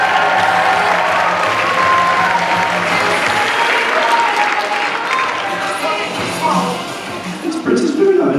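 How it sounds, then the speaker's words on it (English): Convention crowd at a cosplay contest applauds a contestant, loud dense clapping with light cheering held steady for several seconds, then a few voices and rustles breaking through as it tapers. "Give her a round of applause, guys."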